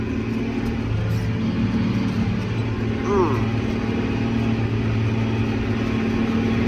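A tractor stuck with its wheels spinning in a wet, muddy field bottom, a steady droning engine rumble running throughout, with a voice exclaiming briefly over it midway.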